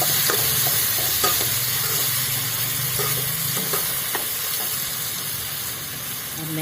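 Onions, asafoetida and tomato fry loudly in a pan over a wood-fire stove, a dense steady sizzle broken by brief scraping stirs throughout, with no talk.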